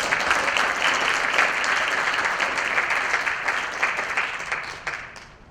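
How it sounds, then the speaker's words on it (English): An audience applauds a jazz ensemble at an evening jazz concert, a dense, steady wash of clapping that holds for several seconds and then starts thinning out toward the end. "more round of applause for the jazz ensemble"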